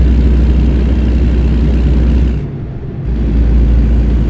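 A car engine runs steadily with a loud, close, low rumble and drone, dipping briefly for about half a second before returning at full strength; no one talks.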